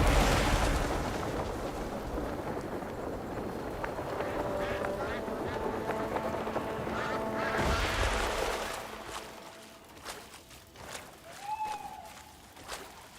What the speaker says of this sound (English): Oh, you got those little fucking dodo birds.